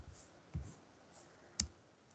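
Two distinct keystrokes on a computer keyboard while a command is typed, close and quiet, with a short pause between them.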